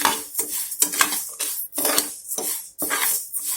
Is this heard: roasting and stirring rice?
yes